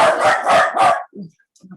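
A dog barks three times in quick succession, loud and near, followed by a couple of softer low whimpering sounds during a quiet class session.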